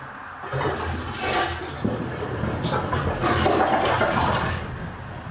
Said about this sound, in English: Second flush, celebrating 0 leaks.